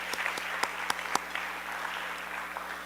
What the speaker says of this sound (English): So a big round of applause for BCW